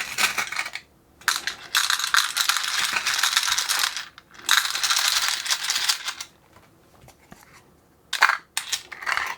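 Homemade screw counter mechanism dispensing six M3 bolts, giving bursts of metallic clattering and rattling as the small bolts tumble through, separated by short pauses, close and moderately loud, with no talk.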